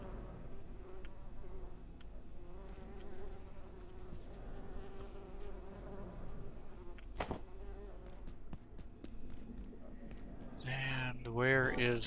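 Bees buzz steadily in a video game during a beekeeping task, a continuous insect drone mixed with other game sounds and a voice in the background.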